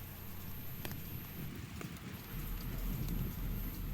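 Steady rain falls outside a flooded weaving mill during a flood, a continuous broadband hiss with scattered drips and a low rumble that thickens toward the end.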